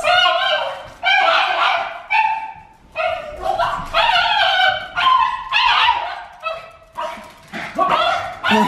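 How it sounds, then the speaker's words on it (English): A pet dog yips and barks in a rapid series of short, high, excited bursts right up close, with brief whimpering tones between them, and no talking over it. "Listen to the noise this dog makes."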